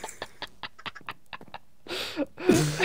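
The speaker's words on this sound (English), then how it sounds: "Oh my, these chickens, I swear." Chickens in the Minecraft video game give a run of short, quick clucks in a rapid series, followed by louder noisy game sounds near the end.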